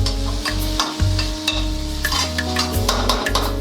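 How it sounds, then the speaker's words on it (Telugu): Cooked rice stirs and fries in a kadai, with a continuous sizzle broken by repeated scraping strokes of a spatula against the pan, close and fairly loud. "అన్నం చల్లారవాలంటే ఇలా వేగుతూ ఉందండి"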